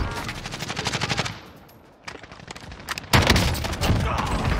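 Rapid automatic gunfire from Call of Duty Warzone rattles in loud bursts, pausing briefly mid-clip before a heavier, denser volley resumes, close and intense.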